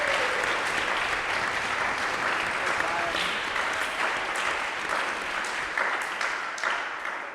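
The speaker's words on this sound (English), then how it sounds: "So give her a round of applause" Sustained audience applause at a Catholic alumni gathering welcoming a missionary speaker, dense steady clapping for about seven seconds that slowly thins toward the end.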